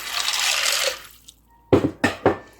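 Very cold water is poured over kidney beans to soak them, a short rushing splash followed by a pause and then three distinct splashy pours into the bowl, close and fairly loud.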